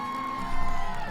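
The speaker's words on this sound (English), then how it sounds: "The crowd cheered." A crowd of students cheers in the Asagao Academy game, a short swell of massed voices and whoops rising midway over a steady tonal music bed.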